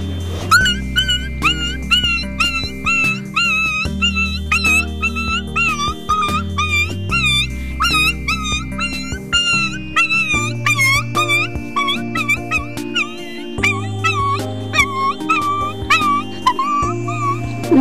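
A person mimics a small dog, producing a run of short, high yips and whimpering barks in quick succession over a steady low musical background throughout.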